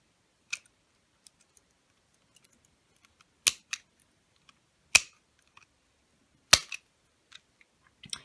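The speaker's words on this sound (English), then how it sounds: "Just take a red needle and cut it" Scissors snip through a red needle for a cork reindeer Christmas craft, giving a few sharp, isolated clicks spaced seconds apart against near silence, with faint small handling ticks in between.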